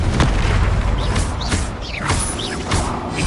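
Confringo fire spell explosions in Hogwarts Legacy blast loudly and continuously, dense booming bursts layered with crackling mechanical noise and whooshing streaks.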